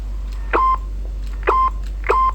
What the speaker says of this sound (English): So we're getting a Roger beep there too.